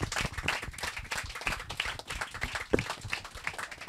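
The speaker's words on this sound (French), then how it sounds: "On peut l'applaudir encore une fois, s'il vous plaît." Audience at a stage show on La Scène des Quais in Auxerre applauds, a dense run of claps sustained at steady loudness throughout, close and lively, with no voices on top.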